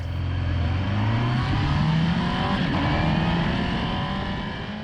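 A Honda CBF 600N motorcycle on its original exhaust revs steadily, the engine note climbing in pitch as it winds up, loud and close throughout with no talk.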